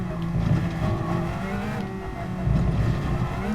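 A race car engine in a sim racing game pulls hard under acceleration, a steady close-up droning roar that rises in pitch through the gear with no pauses.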